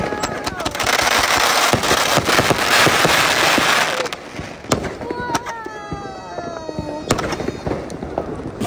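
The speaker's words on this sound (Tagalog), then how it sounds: "Yan, ito yung mga putukan dito ngayon o." Fireworks and firecrackers explode outside an apartment in rapid, crackling bursts, loud and dense at first, then thinning into scattered bangs and whistling rockets, with voices talking over them.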